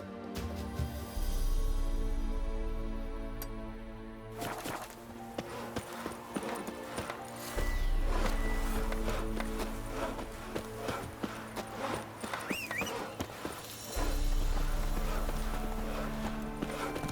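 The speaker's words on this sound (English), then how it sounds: "Run, Roach" A horse gallops in The Witcher 3, its hooves clip-clopping in a fast, steady rhythm that fades in and out in stretches, with game music and ambient sound beneath and no talk.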